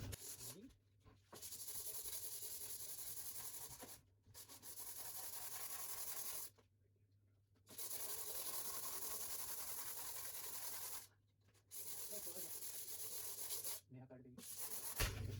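Hand sanding with 120 grit sandpaper wrapped on a wooden block while preparing for kitchen painting gives a close, steady raspy hiss, repeated in long runs of strokes broken by brief pauses.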